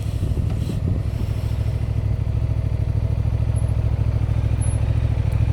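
A Honda Transalp motorcycle rides along a loop through Rancho Santa Fe, San Diego, its engine droning in a loud, steady, close mid-range hum, with light wind and no voices.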